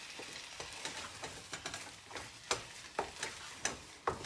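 Mashed sweet potatoes being stirred in a bowl, a rhythmic series of soft, wet scraping and slapping strokes repeating about every half second, close and quiet.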